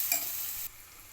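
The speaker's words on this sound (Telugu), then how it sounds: "మంచిగా కలుపుకోవాలి" A potato and bean curry gets stirred in a pan, giving a soft scraping sizzle that holds steady and then drops quieter partway through, close and without any talk.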